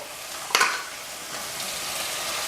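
Pork ribs stir-fried in red curry paste with oyster sauce and soy sauce in a wok, giving a steady close sizzle with one sharp scrape of the spatula near the start.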